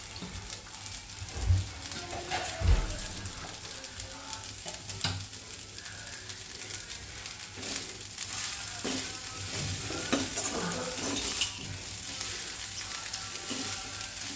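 Tomato rice being stirred in a pan, with a spoon scraping and clinking against the metal over a soft continuous sizzle, a few heavier knocks early on, close and steady with no talking.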